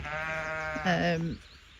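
A frantic ewe bleats once during lambing: a single loud, close, wavering cry of over a second that rises in pitch partway through, then breaks off, leaving quiet outdoor background.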